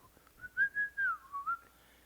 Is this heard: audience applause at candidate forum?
no